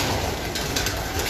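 A pigeon coos softly against a noisy outdoor background, low murmuring calls barely rising above a steady hum, with no talk.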